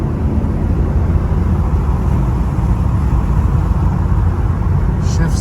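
A 1986 Chevy Monte Carlo SS T-Top driving down the road, heard from inside as a loud, steady engine drone and road rumble with no distinct gear changes, someone talking over it.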